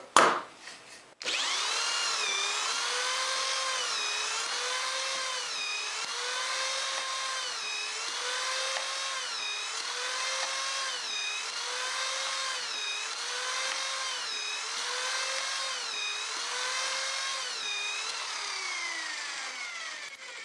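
A drill whines steadily through wood, boring pocket holes with a Kreg K200 jig, its pitch dipping and rising in a regular repeating pattern as it bores one hole after another, close and loud.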